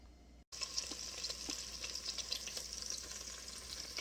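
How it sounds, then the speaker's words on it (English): Chicken browning in a braiser for a cassoulet gives a quiet, continuous frying sizzle that starts after a brief silence, with faint crackles and occasional stirring, heard alone. "in the bottom of this pan, I think you can see all the little fronds that's down there sizzling around"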